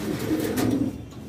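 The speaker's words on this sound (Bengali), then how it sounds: "আর এখানে হাউস পিজন দেখা যাচ্ছে" House pigeons at a fancy pigeon loft cooing in a soft, low, throaty burble that runs steadily for about a second before fading, close and fairly clear with no talk over it.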